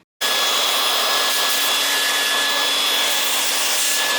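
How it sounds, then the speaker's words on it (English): A power drill whirs loudly and steadily after a brief silence, drilling holes in an aluminum rail, a constant high-pitched grinding whine close by. "drilled holes to attach the brackets that would hold the solar panels to the aluminum rail"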